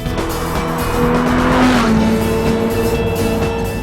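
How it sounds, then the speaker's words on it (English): A 520-horsepower all-wheel-drive sports car with a carbon fiber interior drives hard, its engine revving near and loud while the tires squeal and skid in a sustained screech. "This car is the ultimate experience to drive."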